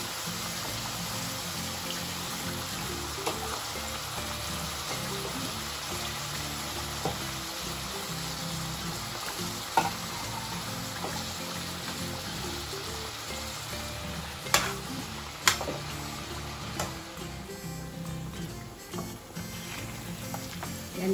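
Banana and sweet potato pieces fry in a pan for a banana cue and kamote cue snack, a quiet, continuous crackling sizzle with occasional clinks and stirring knocks, heard close up without talk.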